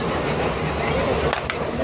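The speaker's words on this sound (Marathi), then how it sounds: "ट्रेनमध्ये आहोत आम्ही जस्ट." The cabin of a moving train gives off a loud continuous rumble and roar, with a couple of brief rattles near the end and no clear speech.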